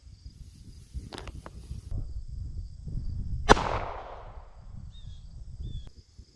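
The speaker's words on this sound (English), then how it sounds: "we're going to be shooting it out of a Glock 44" Single sharp crack of a Glock 44 pistol fired at a Kevlar Hoosier racing tire, an abrupt mid-distance report with a brief decaying ring, amid faint outdoor rustle and insect chirps.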